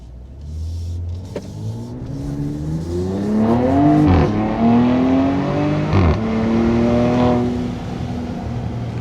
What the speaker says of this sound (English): Now with the exhaust, it's super loud at the back.